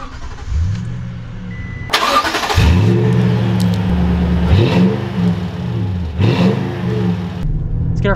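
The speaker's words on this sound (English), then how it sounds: "Let's get our full-blown acceleration." A lifted Toyota Tundra TRD roars through repeated full-throttle accelerations, loud engine revs climbing in pitch, dropping at each gear shift and climbing again, recorded close and alone.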